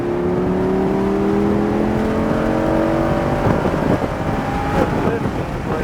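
Lamborghini Huracan accelerating hard on a race track, a loud rising engine roar with climbing harmonic tones and steady wind buffeting close to the microphone, ending in a rough, choppier lift.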